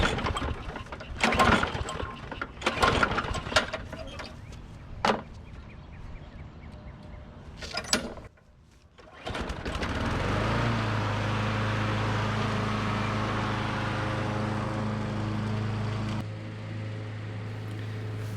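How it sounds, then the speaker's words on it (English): Several tugs and clatters of a pull cord on a push lawn mower without self-propel, then the small gasoline engine catches and settles into a loud, steady running drone nearby that cuts back near the end. "It's been a long time since I had a push mower."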